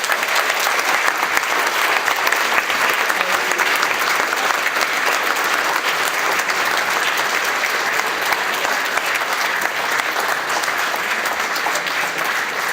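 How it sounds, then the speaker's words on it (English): Sustained, dense applause from a theatre audience at a public talk in Zagreb, loud and steady throughout with no pauses, as the crowd welcomes a film director to the stage. "So please, a big applause for Margarethe von Trotta."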